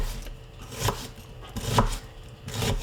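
A knife chops potatoes and onions into small pieces on a board: a few separate, fairly loud chopping strokes at an uneven pace, close by, with no talk.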